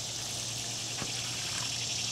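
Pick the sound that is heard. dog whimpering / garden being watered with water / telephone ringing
garden being watered with water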